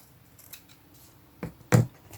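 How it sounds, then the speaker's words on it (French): Two crisp snips of scissors cutting through card, a lighter one followed by a sharper, louder cut a moment later, close up in a quiet room. "En fait, on va juste couper ça."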